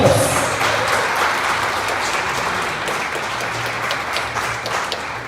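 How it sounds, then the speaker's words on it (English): An audience at a Woman of Power award ceremony breaks into sustained applause, a dense, loud, even wash of clapping that slowly tapers. "A round of applause"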